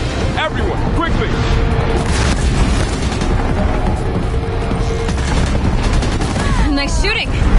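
Dense, loud gunfire and booming impacts from a fight against a machine in Horizon Zero Dawn, continuous throughout, with shouting voices and sweeping machine cries over the battle.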